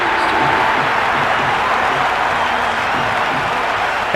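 A cricket crowd in Cricket 26 applauding a drive down the ground during an India versus South Africa Test, a loud, continuous wash of clapping and crowd noise holding steady throughout.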